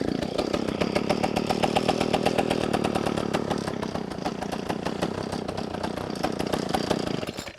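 A small farm engine runs loud and close with a rapid, buzzy, chainsaw-like rattle, holding steady for several seconds before cutting off abruptly at the end.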